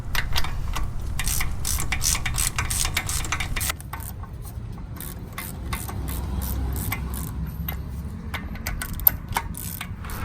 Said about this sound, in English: I'm just going to cinch them up with my 3/8 ratchet